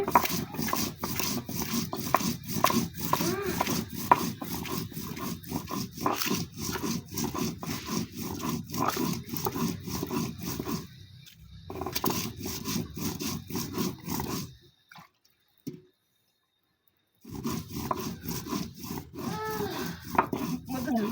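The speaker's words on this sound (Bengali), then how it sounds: "এখন মরিচগুলো বাটা হচ্ছে" Dried chillies are ground by hand on a stone slab (shil pata) for a bean mash, a steady rhythmic scraping and rubbing of stone on stone, close and continuous, pausing briefly near the end.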